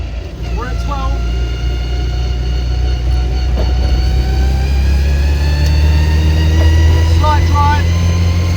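A classic Mini with an overheating problem drives out of a roundabout, its engine holding a steady, loud, close drone with a droning hum throughout.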